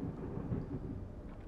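Thunder rolls in the video game Escape from Tarkov as a low, continuous rumble under a light hiss of rain, with no one talking.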